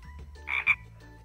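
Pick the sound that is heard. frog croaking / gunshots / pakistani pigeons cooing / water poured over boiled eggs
frog croaking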